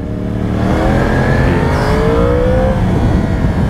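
A motorcycle engine accelerates gently, a loud continuous drone with rising pitch, heavy wind rumble mixed in, close and sustained throughout.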